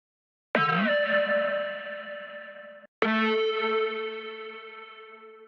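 Two sustained synth chords made in the Vital synthesizer, each with a sharp attack and a slow fade, separated by a brief gap; bright, buzzy and chorused, with no voices.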